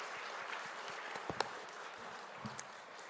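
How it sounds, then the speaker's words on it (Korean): A church congregation applauds, a soft, even patter of clapping with a few louder claps standing out, heard from a distance in the hall. "우리 박수로 환영해 주시기 바랍니다"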